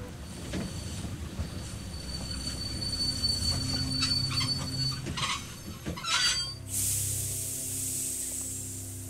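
A train in The Walking Dead video game brakes to a stop with loud wheel squealing and rumbling rail noise, ending in a sharp hiss of released air, no voices heard.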